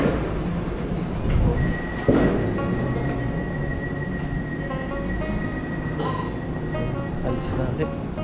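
A train rumbles and hums steadily, with a thump and rising mechanical whine as it departs a station; the sound stays loud and close throughout.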